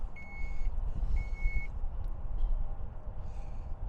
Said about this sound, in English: This button will lower the tailgate